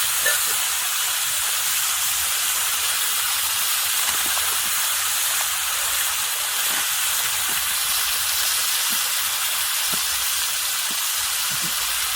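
A hot pan after water is added, giving a steady, loud, broad hiss of boiling and steam with faint occasional clinks underneath, continuous throughout.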